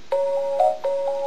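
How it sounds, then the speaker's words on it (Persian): A telephone rings in a studio setting, a steady electronic tone broken into short repeated pulses, loud and close with no speech. "اجازه بده من تلفن رو قطع کنم"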